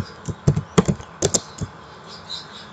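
Several quick keystrokes on a computer keyboard in a burst of uneven taps, close and fairly clear, while entering a search in the Windows registry editor, then a quiet pause with faint background hiss.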